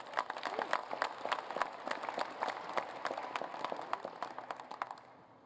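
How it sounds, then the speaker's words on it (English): Sustained audience applause at an engineering school commencement ceremony fills a large hall with dense, even clapping that slowly fades out at the end. "Another round of applause for Ms. Island."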